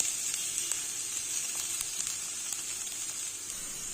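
Cumin, onions and curry leaves sautéing in a pan for broccoli soup, a steady, close hiss of sizzling oil broken by occasional light ticks and crackles, with nobody speaking.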